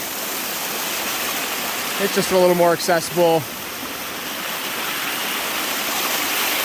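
A waterfall and stream along the Lostland Run trail make a steady, full rush of water throughout, with someone talking briefly over it partway through.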